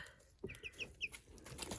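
A hen clucks softly in a small flock, a quick series of short, high clucks close by but quiet, over a low background hum.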